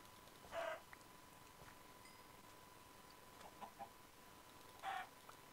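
Minecraft chickens give two short, faint clucks several seconds apart against a quiet, near-silent game background.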